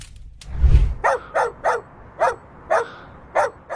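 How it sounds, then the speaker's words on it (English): A dog barks hard at a back door in Tucson, Arizona, around 3 a.m.: about seven sharp, evenly spaced barks close by, after a low thump at the start. "woke up around 3 in the morning to his dog barking hard at the back door"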